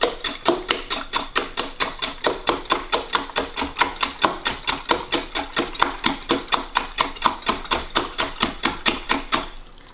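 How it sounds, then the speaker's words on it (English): Eggs whisked briskly in a jug or bowl, a steady, even rhythm of sharp utensil strikes against the side, roughly three per second for the whole stretch, close and alone with no talking. "break the eggs into a jug or a bowl. After, whisk the eggs properly."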